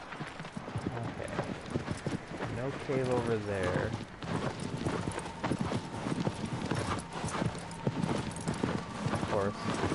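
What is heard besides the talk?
horse hooves trotting in Shadow of the Colossus video game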